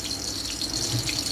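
Vegan mince meat substitute bubbling in a pan at a vegan restaurant in Mauritius, a steady, close hiss and crackle of simmering liquid lasting throughout, with no voices.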